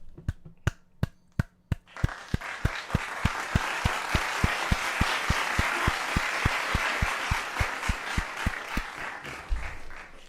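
A rhythmic run of sharp hand claps, a few slow isolated ones at first, then a steady fast beat of about three per second. They continue for around ten seconds over a broad wash of crowd-like noise.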